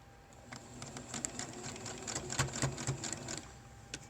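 A sewing machine runs a basting stitch across the pleats of a fabric mask, with a steady rapid needle clatter that is fairly faint and close, and with no talking.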